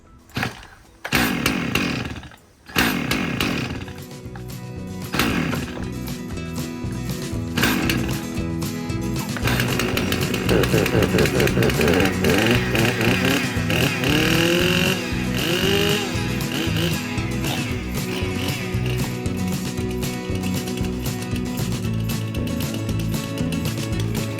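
A revived Stihl chainsaw engine sputters through a few pull-start attempts, then catches and runs steadily, loud and close, holding a continuous buzzing drone for the rest of the clip.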